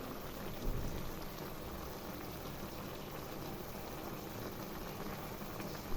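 A cauliflower and cubed tomato curry made with sour yogurt simmering in a pan, a faint steady bubbling hiss like light rain, constant throughout with a small bump near the start; nobody speaks.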